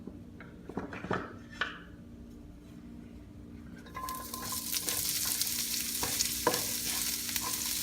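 Onions hitting hot oil in a pan for milkfish kaldereta, with a few utensil clinks and stirring knocks first, then a loud, steady sizzle that swells and keeps going under occasional scrapes.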